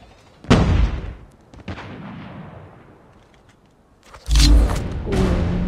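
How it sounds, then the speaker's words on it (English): Predator missile strikes in a Call of Duty match: a loud, close explosion with a long rumbling decay, a smaller thump, then another heavy blast that rolls on to the end. "Predator missile inbound."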